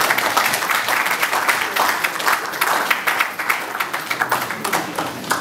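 Audience applause at a press conference in a hall, a steady wash of many hands clapping that fills the room without a break.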